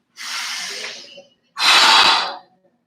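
Two deep, close breaths during a guided breathing exercise: a long airy inhale, a short pause, then a stronger, rushing exhale, with no talking.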